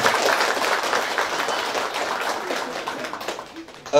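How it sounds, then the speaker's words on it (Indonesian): Clapping from an audience at a family gathering of a cake and bakery business, a dense round of applause that swells at first, then thins and tapers toward the end. "Tepuk tangan dulu teman-teman."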